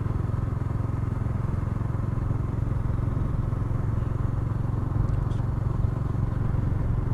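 A Bajaj Dominar 400 BS6 motorcycle cruising in fifth gear, heard as a steady low engine hum with wind rush throughout, continuous and fairly even in level.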